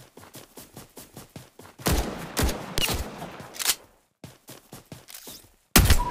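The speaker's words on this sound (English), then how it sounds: "Warning, incoming bombardment." Rapid gunfire pops rattle through a bombardment in the Omega Legends mobile game, punctuated by loud, roaring explosion bursts, a brief lull, and a final heavy blast.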